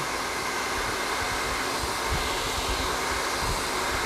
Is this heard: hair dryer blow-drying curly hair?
yes